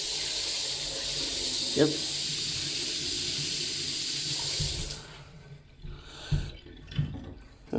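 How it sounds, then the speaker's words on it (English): Water runs from a sink tap indoors, a steady close rushing splash for about five seconds that stops, followed by a few short clunks and a brief spoken word. "Oh yeah, that's a sink."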